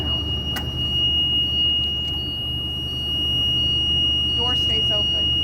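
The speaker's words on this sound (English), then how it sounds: "you will hear our alarm sound" A school bus emergency door alarm sounds as a steady, high-pitched continuous tone, held unbroken over a low idling rumble, with brief faint chirps and voices in the background.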